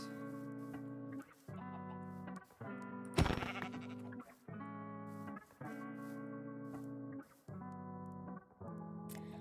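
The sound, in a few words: sheep bleating in the video game Minecraft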